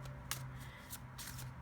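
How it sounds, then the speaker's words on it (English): Tarot cards shuffled quietly in several short riffling bursts, each a soft papery flutter, with a faint low steady hum underneath and no talking. "I personally really like it when people include the sounds of the shuffling"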